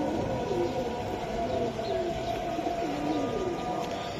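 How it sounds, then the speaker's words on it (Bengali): A racing pigeon coos softly and repeatedly close by, low warbling calls over a constant background hum with a few faint bird chirps. "দর্শক এই যে দেখেন কবুতরটা"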